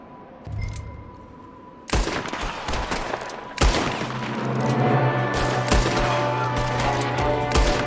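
Gunfire in Red Dead Redemption 2: sharp, loud gunshots crack at irregular intervals over a busy background, with a low droning tone and scattered smaller pops between the louder reports.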